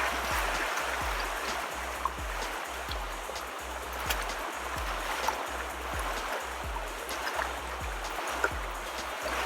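Water swirled in a conical gold pan while panning for gold, with rhythmic sloshing surges repeating about every second, fairly close, with occasional small splashes and gritty washing over a low steady rumble.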